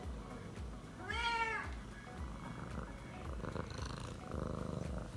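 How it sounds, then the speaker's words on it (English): A cat purrs steadily beside her clicker-training wand and clicker, with a short meow-like call rising midway through and light household noise around it. "Do you hear those purrs? Listen."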